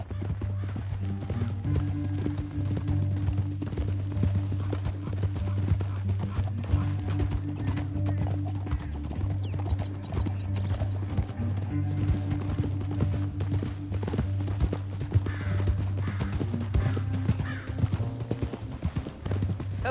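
Hooves pound in a continuous galloping rhythm as a horse runs in Red Dead Redemption 2, with brief whinnies and a low music bed beneath the steady clatter.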